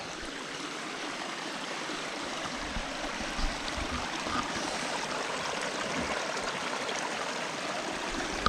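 A mountain stream in the Outeniqua range running in the dry heat of summer, a continuous, even rush and burble of water close by with no voices.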